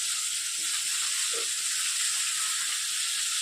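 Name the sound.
frying small khaira fish in pan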